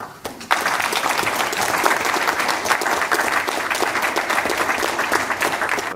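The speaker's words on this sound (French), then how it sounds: "Vous pouvez vous applaudir." Council members applaud newly installed deputy mayors at a town council installation in La Riche, France. A dense, loud roomful of clapping swells in after a brief quieter moment and holds steady to the end.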